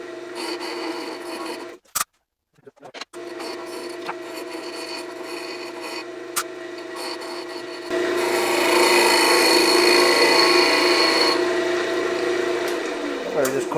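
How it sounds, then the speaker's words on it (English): A hollowing tool cuts into Osage orange wood on a lathe while turning a honey pot, producing a steady grinding rasp over the motor hum, with a brief pause and louder cutting later. "I'm not used to working with this hollowing tool"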